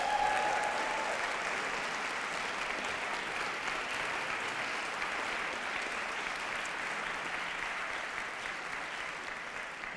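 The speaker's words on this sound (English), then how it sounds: "How about one more round of applause for your hosts," Audience applause for a barbershop chorus show, steady dense clapping from a crowd throughout, somewhat distant and even in level.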